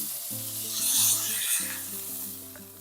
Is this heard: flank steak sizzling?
yes